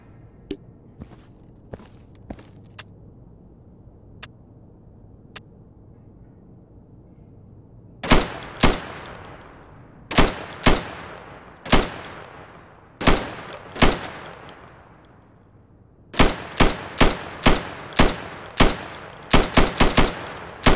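Gunshots fired at targets through plywood in the Insurgency shooting game, starting as a few faint isolated pops, then loud, sharp shots in quick bursts and pairs. No voices.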